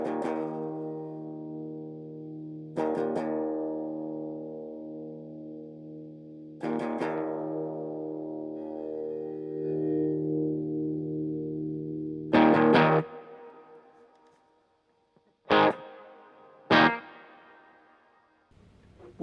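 High-gain electric guitar through an Orange Super Crush 100 amp, played as a few sustained distorted chords that ring out, then short sharp stabs near the end, loud and close with no talking.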